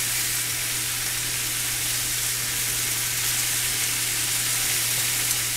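Pork chops sizzle and fry steadily in a hot pan while being stirred, a loud, even hiss with a low hum beneath, continuous from start to finish.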